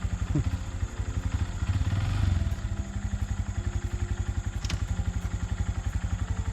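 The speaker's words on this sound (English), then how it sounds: "First official ride on the Grom." A Honda Grom motorcycle rides past nearby, its small single-cylinder engine throbbing in a fast, even pulse that swells briefly as it accelerates, with faint clatter underneath.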